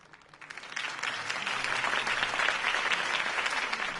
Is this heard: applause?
yes